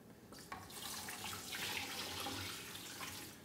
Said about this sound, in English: add a little bit more water until it's totally covered